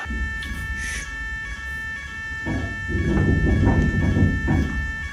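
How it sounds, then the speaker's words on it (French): A school intrusion alarm sounds as a steady, loud electronic tone with harmonic bands, growing louder and busier in the second half with added clatter and voices mixed in. "c'est pas une alarme incendie, c'est une alarme intrusion"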